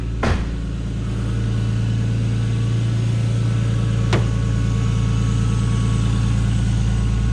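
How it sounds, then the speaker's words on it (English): An R32 Nissan Skyline engine idles close by, producing a steady, loud, even rumble with a couple of brief clicks and no talking. "Just gonna let it run for a second."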